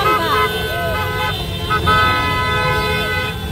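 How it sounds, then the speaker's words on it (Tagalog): Several car horns toot and blare in overlapping bursts amid traffic noise, while people talk underneath. "Yan, busina para sa mga ayaw kay Samba."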